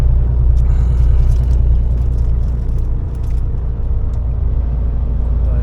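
A truck loaded with a lathe drives along a road in Germany, heard from inside the cab as a steady, loud, low engine rumble and road drone that continues without pause.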